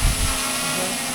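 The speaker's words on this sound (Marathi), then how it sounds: "ओके ड्रोन उडलेला आहे" An ageing drone hovers in the air near the Trimbakeshwar temple area, a steady, buzzing whir of spinning propellers that holds even and fairly loud for the whole moment, with no voices.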